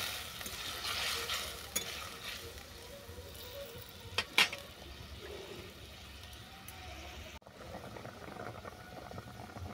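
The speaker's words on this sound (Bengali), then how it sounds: "ঝোল ভালো করে ফুটে যাওয়ার পর" Fish curry gravy simmering in a pan, a steady low bubbling that runs throughout, with a few sharp clinks near the middle.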